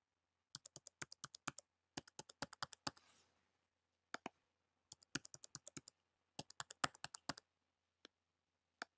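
Quick bursts of keystrokes on a computer keyboard while a username and password are typed, coming in irregular clusters of crisp, close clicks with brief pauses between them and a soft rustle in the middle.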